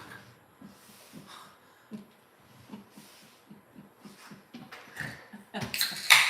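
A dog whimpers and breathes in soft repeated whines and snorts nearby indoors, quiet at first and growing louder and more insistent toward the end.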